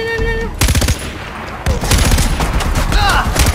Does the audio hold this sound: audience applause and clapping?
no